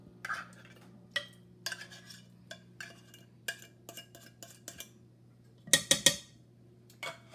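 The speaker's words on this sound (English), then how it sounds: "We add the tuna fish." Tuna fish going into a pot of cooking pasta: a scattered series of sharp metallic clinks and scrapes of utensils against the pot, close and clear over a low steady hum, with a cluster of louder clatters near the end.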